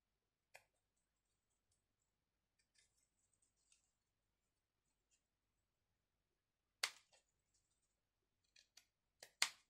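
Scissors snip through material in a few sharp, isolated clicks, quiet at first, then a quick cluster of louder crisp cuts near the end, with no talking.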